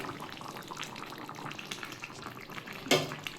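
Curry gravy simmering in a pan with vegetable fritters (bora), a soft continuous bubbling and sizzling hiss with a brief louder splash or clink near the end.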